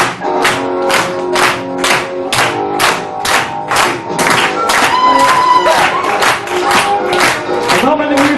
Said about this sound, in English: Let's hear you clap it